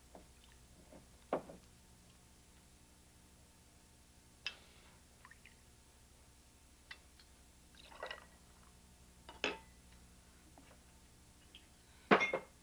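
Patron white tequila measured and poured into a glass while mixing a cocktail: quiet, scattered glassy clinks and brief liquid drips spaced over several seconds, sharpest near the end, with no talking.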